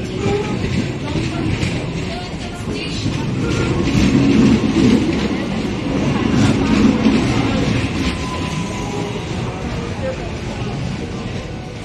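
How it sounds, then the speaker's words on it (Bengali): A passenger train arrives at a rural Bengal station near Dhaniakhali, its steady rumble and clatter of railcars loud and continuous throughout, swelling slightly in the middle as it draws nearer. "ওই যে ট্রেন আসছে"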